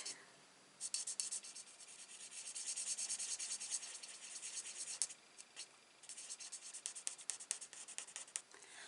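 A chisel-end marker pen colouring a card, close scratchy strokes in bursts with a short pause midway and rapid rubbing toward the end.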